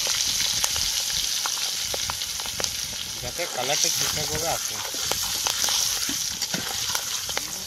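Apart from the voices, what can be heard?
turmeric and Kashmiri chilli frying in oil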